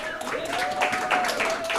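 Brief applause from an audience at a book talk, a dense patter of clapping with a steady tone running underneath.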